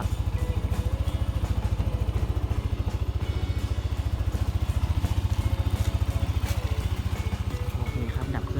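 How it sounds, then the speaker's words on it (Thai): A Yamaha NMAX 155 scooter engine idles close by with a steady, even chugging pulse and a light mechanical clatter, with no change in pace. "ก็คือเครื่องติดครับสามารถขับขี่ได้เลยนะครับ"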